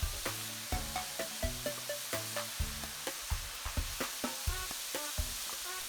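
A spatula mixes empanada filling seasoned with paprika, bay leaf, pepper and salt in a pan, giving regular scraping strokes about twice a second over a light sizzle.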